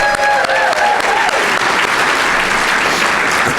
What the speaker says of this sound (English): One more round of applause for our District Governor